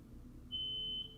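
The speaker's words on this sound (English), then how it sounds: "there is a smoke detector in my house that is faulty" A faulty smoke detector in a house gives off a single steady, high-pitched alarm tone for about half a second, clear over a quiet room.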